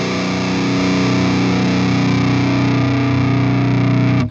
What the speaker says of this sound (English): Kyle Bull recently bought a hot mod for a Marshall. Just boosted it up